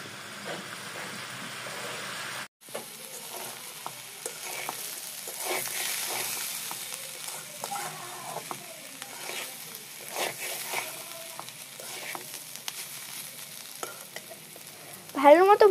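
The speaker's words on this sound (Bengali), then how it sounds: "সব ভালো মতো ভাজা হয়ে গেলে এবার সব নাড়িয়ে নেব" Fried potatoes and fish being stirred in a pan, a continuous close sizzle broken by irregular scraping and knocking of a spatula, with a louder clatter at the very end.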